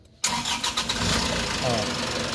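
An Isuzu Travis engine cranks and starts, catching after a short whir and settling into a steady, close idle.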